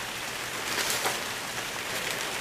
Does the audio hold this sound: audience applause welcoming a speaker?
no